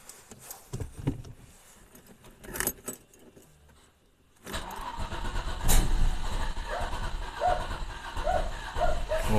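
An Audi 100 C4 with a 2.8 engine that runs poorly and stalls cranks briefly after a jangle of keys, then catches and settles into a loud, steady idle that carries through to the end.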